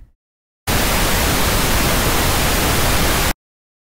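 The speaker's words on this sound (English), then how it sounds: "we're using this pink noise as the baseline for our waves" Synthesized pink noise from a signal generator switches on abruptly as a loud, steady, broadband hiss, holds unchanged for nearly three seconds with no voices, then cuts off sharply.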